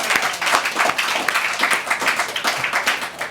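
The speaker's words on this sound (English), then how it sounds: "Please, let's give them another round of applause, please." An audience applauds the speakers at an evening talk, steady, fairly loud clapping from many hands filling the room without pause.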